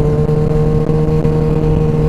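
Sport motorcycle engine running close and loud, a steady buzzing drone with a constant pitch and no talking over it.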